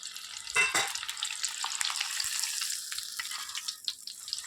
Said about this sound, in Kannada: ಬೆಳ್ಳುಳ್ಳಿಯನ್ನು ಜಜ್ಜಿ ಹಾಕಿದ್ದೀನಿ ಇದನ್ನು ಈ ಥರನೇ ಫ್ರೈ ಮಾಡ್ಕೊಳ್ಳಿ